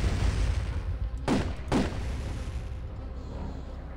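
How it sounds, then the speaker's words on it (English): Pistol gunfire in the first-person shooter Turok 2: Seeds of Evil, two sharp shots about half a second apart, loud and close over a dense, steady game background. "I guess we'll use the pistol for a little bit"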